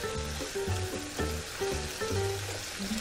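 Meat browns in a pan for chicken pot pie, a steady close sizzle and crackle of frying running throughout with faint tonal hum layered underneath and no talking.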